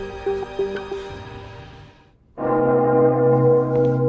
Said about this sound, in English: The bell in the hall rang.